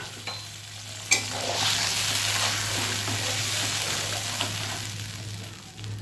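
Pabda fish in mustard paste cooking in a pan, a steady close sizzle and frying crackle with stirring scrapes throughout, a sharp clink near the start.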